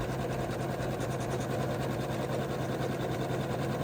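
Sewing machine stitching a bean stitch on an appliqué for a small handbag charm bag, a steady, continuous mechanical whir with rapid even needle rhythm, moderately quiet and heard alone.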